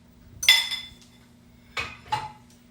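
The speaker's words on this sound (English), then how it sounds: "So now I'm going to add the sweet potatoes and the sauce." Sweet potatoes and sauce tipped into a skillet with turkey, broccoli and red peppers, making a loud clatter of utensil on pan, then two shorter clinking knocks a second later, close by.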